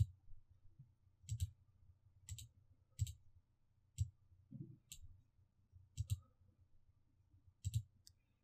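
Computer mouse clicking on a Windows 7 PC, a series of faint, sharp single and double clicks spaced irregularly over a quiet background.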